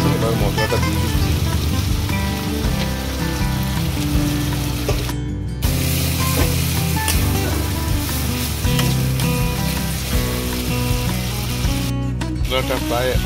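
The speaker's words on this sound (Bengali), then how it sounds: "পেঁয়াজ ভাজা হয়ে গেছে, এবার মশলাটা দিয়ে দিচ্ছি।" Spice paste for a sea crab curry fries in hot oil after onions, a dense loud sizzle throughout with stirring clatter and two brief dropouts.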